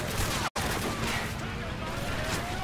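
Constant heavy gunfire fills the Call of Duty Modern Warfare 3 campaign, rapid shots and bursts loud and unbroken apart from a split-second dropout, with voices faintly mixed in.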